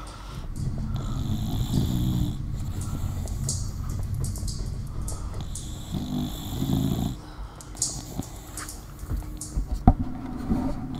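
A person snoring with low, rumbling, grunting breaths that repeat steadily over a game soundtrack, fairly close and loud, with some snorts toward the end.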